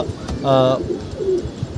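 A pigeon coos once nearby, a short rolling burst over faint background sound and a bit of speech.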